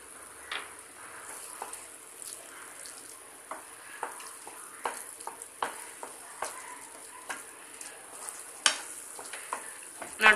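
Bread halwa with condensed milk is stirred in a pan, a soft background sizzle broken by repeated light scraping and tapping strokes of a spoon at an uneven pace, fairly quiet and close, without speech.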